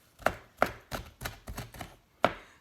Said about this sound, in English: You can cut it up a bit and then crush it with a knife.